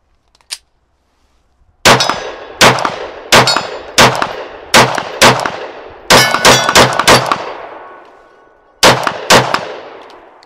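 A SIG P365 pistol and a larger pistol fire rounds at steel targets, with about a dozen loud, sharp cracks and metallic rings spaced out over several seconds, some in quick pairs and clusters, each followed by a decaying ring.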